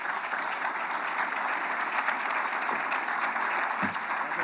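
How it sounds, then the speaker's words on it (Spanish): An audience at an Aspen Institute México panel gives warm, continuous applause to welcome a speaker to the stage, a dense even roar of clapping that holds steady for several seconds. "Recibamos con un aplauso a Gustavo Madero Muñoz"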